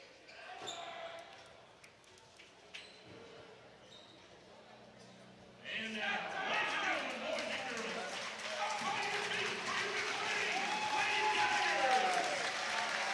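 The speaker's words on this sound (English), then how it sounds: "See the crowd on its feet here inside McClain High School." High school girls' basketball crowd inside a gym cheering as starters are introduced, quiet at first with a few thumps and an announcer's voice, then swelling into loud sustained cheers and applause.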